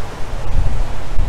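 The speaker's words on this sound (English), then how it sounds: "Too windy." Strong gusts of wind buffet the microphone outdoors, a steady low rumble with surging peaks, no voices.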